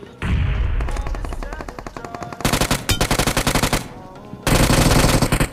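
A Tommy gun fires in the mobile battle game BGMI, in loud, rapid machine-gun bursts separated by short pauses, close and dominant with no talk.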